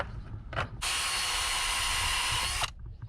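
A power drill whirs steadily for about two seconds, loud and close, with brief bursts of motor sound before and after.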